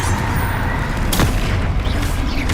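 A Confringo fire spell explodes in the video game Hogwarts Legacy, a single loud boom about midway that rises over a constant, dense layer of combat noise.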